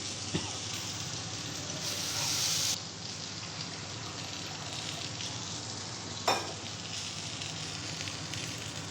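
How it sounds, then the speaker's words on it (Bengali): Potatoes frying in a pan for a home-style potato and eggplant curry, a steady close sizzle running throughout with a couple of brief clatters from stirring. "লাল লাল করে, মানে আলুগুলো ভাজবো।"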